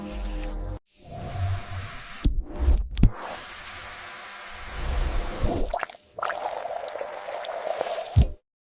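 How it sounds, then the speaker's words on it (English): Animated sound effect of irrigating solution flushing root canals during root canal treatment: a series of watery pouring and spraying bursts, separated by abrupt silent gaps, with low gurgling underneath and no talk. "Irrigating solutions are used to flush the canals and destroy bacteria"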